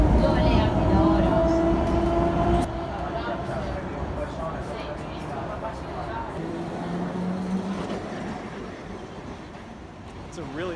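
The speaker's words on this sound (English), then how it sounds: "It's a really nice tram." A tram in Turin rolls past with a low rumble and tonal wheel and motor whine, loud at first and then easing into a steadier drone, with a high squeal later on and people talking nearby.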